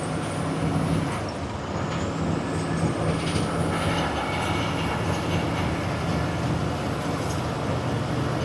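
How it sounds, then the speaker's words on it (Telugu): A train from Madhya Pradesh rolls past close by, its steady rumble and wheel clatter holding at one level throughout, with no voices over it. "మధ్యప్రదేశ్ బండి అది"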